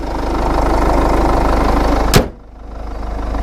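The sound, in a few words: Jeep Liberty 2.8 liter turbo diesel engine idling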